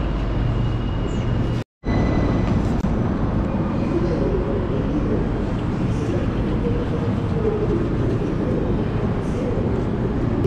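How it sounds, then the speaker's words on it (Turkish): An Algiers metro train rumbles and roars steadily nearby, a low continuous mechanical drone with a brief dropout near the start. "Metro, Cezayir metrosu da böyle."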